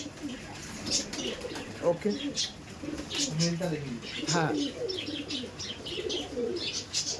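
Giribaj pigeons at a sale coo nearby in soft, rolling, repeated calls, mixed with light chirps while someone talks over them.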